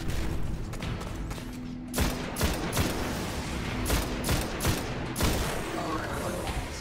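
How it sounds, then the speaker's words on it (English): Sniper rifle fire in the video game Destiny, with several sharp shots spaced through a dense, loud bed of continuous combat noise and explosions, and no one talking. "sniper rifle in the face."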